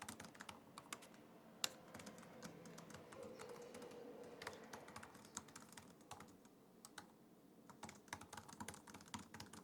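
Typing on the keyboard of an HP Omnibook Ultra Flip 14 laptop, with steady, close clicks as keys bottom out in quick bursts, running continuously and fairly quiet with no talking.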